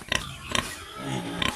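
Backyard-farm pigs being fed, giving three short grunting oinks spaced across a brief moment, fairly close, with low rumbling noise between them and no talk.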